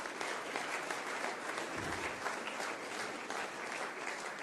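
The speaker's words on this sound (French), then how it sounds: "vous pouvez l'applaudir" An audience at an event applauds, a dense wash of clapping held at a steady moderate level throughout, somewhat distant.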